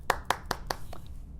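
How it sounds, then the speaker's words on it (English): Four sharp hand claps in an even rhythm, close and fairly quiet, followed by a softer tap and then near silence. "I clap for you."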